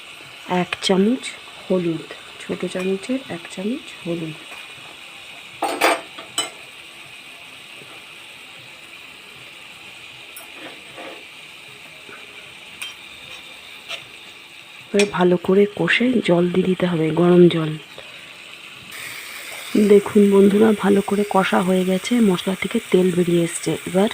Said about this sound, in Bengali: অল্প জল দিয়ে দিয়ে কিন্তু কষতে হবে মশলাটা ভালো করে